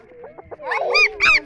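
A puppy gives a short run of high, yelping barks and whimpers, close and fairly loud, lasting under two seconds.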